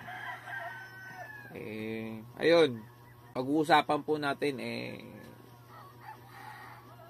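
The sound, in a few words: roosters crowing outside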